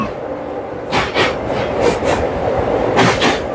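A train rumbles across Bally Bridge near Dakshineswar with rhythmic clatter and hollow metallic clanks, loud and close.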